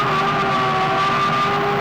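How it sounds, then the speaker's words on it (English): A Formula 1 car at the 2001 Spanish Grand Prix, its engine holding a steady high-pitched whine with sustained tonal bands, loud and continuous through the whole stretch with no talk over it. "Hear that engine racing in the background"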